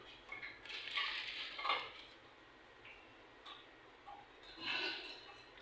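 A metal cake pan coated with butter and flour is handled on a kitchen counter, giving faint scattered clinks and light scraping taps in a few short clusters against a quiet background.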